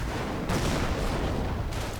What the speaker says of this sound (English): The Bren guns firing away with glee.